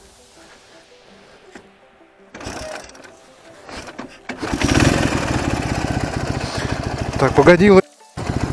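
A Ural motorcycle engine sputters to life, then revs hard into a loud, steady roar close by. Someone speaks briefly before it catches.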